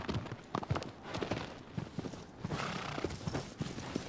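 Horse hooves clip-clop steadily in Shadow of the Colossus, a rhythmic run of hoof strikes on hard ground, fairly close, with faint ambient noise underneath.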